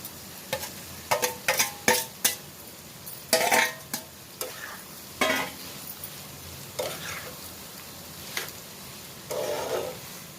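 Fried paneer is stirred into masala in a pan, with a series of close scraping and clinking spoon strokes against metal over a low sizzle, irregular and fairly loud.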